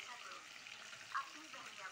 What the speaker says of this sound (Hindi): मछली हो गया फ्राई और यहाँ पे ये बस थोड़ा सा बचा हुआ है